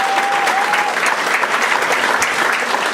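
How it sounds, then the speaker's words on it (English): A talent-show audience claps in loud, dense, sustained applause at a local idol competition, steady throughout with a faint murmur of the crowd. "Give Dan a nice round of applause if you would, please."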